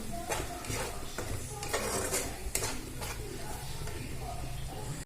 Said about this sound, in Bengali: দইটা বেশি ভাজতে টেস্টটা নষ্ট হয়ে যায়, তাই আমি অল্প একটু ভেজে নেব।